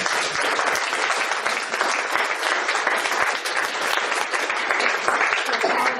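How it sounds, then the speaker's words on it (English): A workshop audience applauds steadily and loudly throughout, a dense wash of clapping hands with no pause. "can we get a quick round of applause for everybody?"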